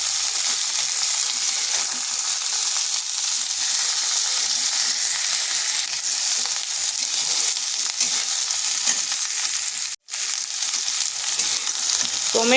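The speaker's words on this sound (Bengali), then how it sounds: "ফুলকপি আর লঙ্কাগুলো হালকা ভাজা হয়ে গেছে," Cauliflower and green chillies fry lightly in a pan, giving a steady, even sizzle that runs close and unbroken, with one brief dropout near the end and no talking.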